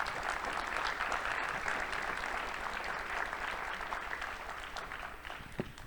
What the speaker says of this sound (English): Let's clap once more.